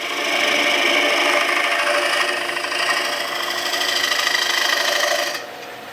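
Woodturning tool cutting a dovetail tenon on a spinning workpiece on a lathe, a steady scraping, rasping hiss close up that keeps going as the tool works back and forth, then drops away near the end.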